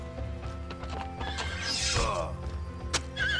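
A unicorn neighs in the Heroes of Might and Magic 2 video game, a bright whinny rising and falling over a steady low game hum and a soft hoof clatter, with a shorter squeal near the end.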